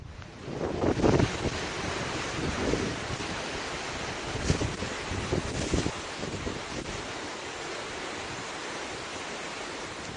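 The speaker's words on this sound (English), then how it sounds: "There's a 20-second video of just a beach." Waves washing onto a beach, a steady broadband rush with a few louder surges, roughened by wind buffeting the microphone and heard alone with no voices.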